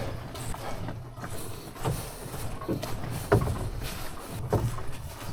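A canoe paddle dips and pulls through the water of Casey Lake in soft, rhythmic strokes about once a second, with light splashes and drips, close and quiet, with no talking.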